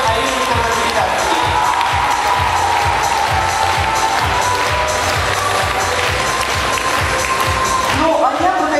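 A theatre audience applauds a dance ensemble at an anniversary concert, a dense sustained wash of clapping with a steady rhythmic beat pulsing underneath, loud and continuous throughout.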